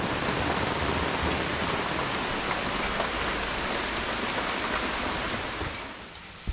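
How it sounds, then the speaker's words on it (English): Steady, dense rain falls in a continuous hiss, loud and close, easing slightly near the end. "Rain is coming down."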